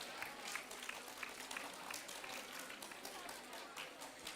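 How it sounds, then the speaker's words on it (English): Audience applause at a valedictory ceremony for a model United Nations conference, a steady, faint wash of many hands clapping at a distance, with a voice faintly present beneath it. "Let's have a huge round of applause for our executive board members and congratulations to the winners."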